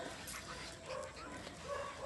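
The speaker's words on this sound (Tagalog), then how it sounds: "ayun yung aso namin makulit" A dog on a hilltop in Irisan, Baguio City gives a few soft, faint barks and whimpering yips against steady outdoor background noise.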